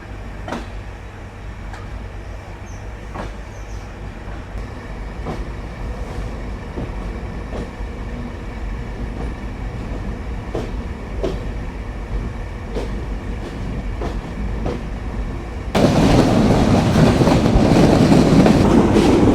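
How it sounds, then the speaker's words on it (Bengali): The Benapole Express pulls away from Kotchandpur railway station with a steady rolling rumble and evenly spaced clickety-clack wheel beats heard from inside a carriage, growing louder and rougher near the end as it gathers speed. "আমাদের ট্রেন কোটচাঁদপুর রেলওয়ে স্টেশনে তার নির্ধারিত যাত্রা বিরতি শেষ করে এখন আবার চলতে শুরু করলো বেনাপোলের উদ্দেশ্যে"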